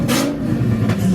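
A Dodge Viper engine with no exhaust fitted revs loudly, a raw, harsh roar that surges twice over a steady rumbling idle, close by.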